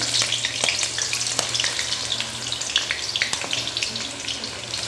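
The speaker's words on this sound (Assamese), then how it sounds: "এতিয়া আমি ইয়াতে পিঁয়াজখিনি দি দিম কাটি থোৱা পিঁয়াজখিনি" Chopped onions go into a hot pan for a duck dish and sizzle steadily and up close. Sharp little pops and clicks from stirring punctuate the frying, with no speech.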